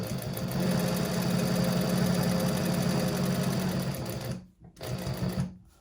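A sewing machine runs in one steady, close burst of rapid stitching through handbag lining, stops briefly, then gives a short final spurt.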